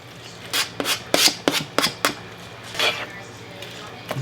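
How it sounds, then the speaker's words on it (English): Cut eggplant tipped into a pan for a Moroccan eggplant dip, heard as a run of close, crisp thuds and scrapes against the pan in quick, irregular succession with quiet gaps between them. "Now we're going to add our eggplant."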